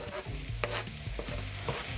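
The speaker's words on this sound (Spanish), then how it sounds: "Que chille nuestro sartén." Mushrooms frying in a pan for a stew, a close crackling sizzle with stirring scrapes throughout and a sharp knock at the very end, no voices.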